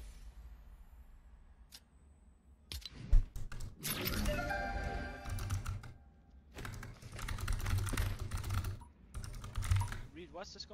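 A computer keyboard is typed on in rapid clustered bursts of sharp clicks and clacks, close and fairly loud, with short pauses between flurries.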